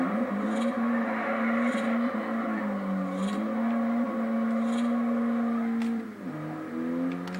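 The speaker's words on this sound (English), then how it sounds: "Let's try a little e-brake spin." A 2005 Mini Cooper S revs its engine in a steady, loud, droning tone that holds and wavers, then drops abruptly near the end, with faint repeating high squeals in the background.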